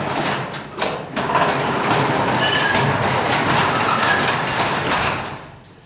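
A garage door on cheap, unlubricated black nylon rollers rolls open with a steady, loud grinding rumble and rattling clatter for about five seconds, ending in a fade.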